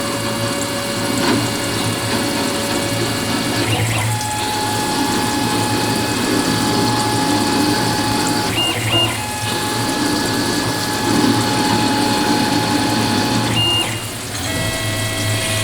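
Two-fluted end mill machining 303 stainless steel with coolant, a steady loud mechanical hum with pump-like whir and brief pitched squeals and pauses as the cutter moves through the metal.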